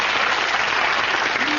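A studio audience at a sitcom taping applauds, a dense, even wash of clapping that holds steady and loud for a brief moment.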